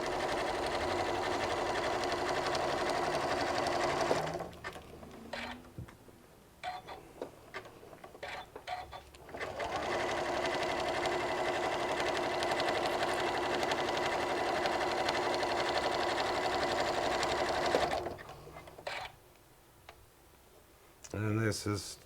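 A sewing machine stitches fabric along a 2-inch ruler while making a walker bag, running in a steady close whir for two long stretches separated by a pause full of clicks and handling, with talking heard during the stitching.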